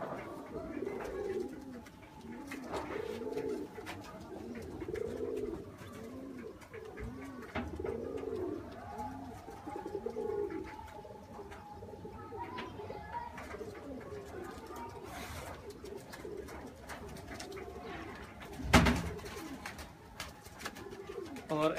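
Purebred pigeons coo in repeated soft, throaty bursts close by, and people talk quietly over the cooing.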